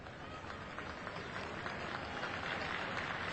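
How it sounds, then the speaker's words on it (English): Crowd applause at a 1992 rugby league match between Great Britain and Newcastle, a steady, distant wash of clapping from the stands with faint crowd murmur, continuous over the whole stretch. "He gets a sympathetic round of applause as Hallis clings on"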